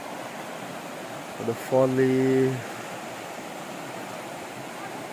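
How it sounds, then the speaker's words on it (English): A river flowing in Logar Valley, Slovenia, a steady broad rushing wash heard throughout at moderate level, with a short spoken phrase briefly over it midway. "Having a breakfast while hearing the river sound"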